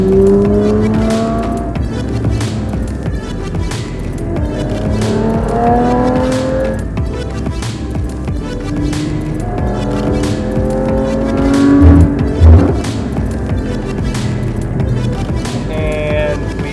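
Car driven fast along a mountain road, its engine heard close from inside, revving up repeatedly through rising gear sweeps with short lifts between them, and a louder surge near the end.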